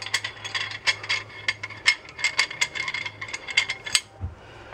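Dense run of rapid ratchet clicks as a clamp is tightened over a Canon PowerShot camera during lens repair, fairly close and uneven in rhythm, with no talk.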